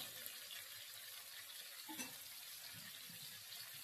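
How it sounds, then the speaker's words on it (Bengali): Shrimp fry in hot oil seasoned with a little salt and turmeric, giving a soft, steady sizzle and hiss with no one talking. "তেলটা গরম হয়ে গেছে, আমি চিংড়ি মাছগুলো ছেড়ে দিচ্ছি।"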